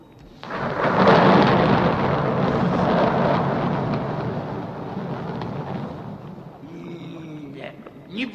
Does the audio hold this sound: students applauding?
no